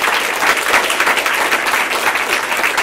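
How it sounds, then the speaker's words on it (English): An audience applauds caregivers at an inspirational speaking event in Portland, with steady, dense clapping that holds loud and even from start to finish. "So would you please join with me in giving them a round of applause?"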